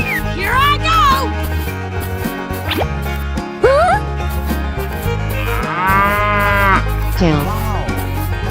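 A cartoonish cow moo rises and falls over steady background music in a children's animal transformation game, with a few sliding effect tones around it.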